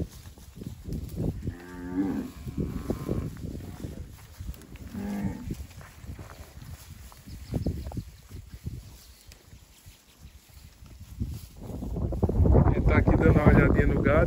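Sindhi-breed cattle moo a few times, one after another and fairly near, on a farm in Paraíba, Brazil, over outdoor ambience and light wind noise.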